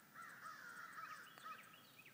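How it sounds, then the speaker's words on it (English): Several crows caw repeatedly in the distance, harsh calls overlapping in an uneven rhythm against a quiet outdoor background. "Crows and hoot owls are having a time this morning."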